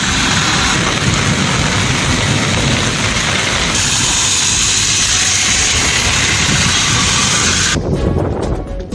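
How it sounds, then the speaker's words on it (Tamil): Heavy rain pours down in a strong, windy thunderstorm in Tamil Nadu, with steady loud hiss and low rumbling throughout, dense and close, shifting in tone midway and thinning near the end. "தூத்துக்குடியில் நேற்று மாலை இடி மின்னல் மற்றும் பலத்த காற்றுடன் கனமழை பெய்தது."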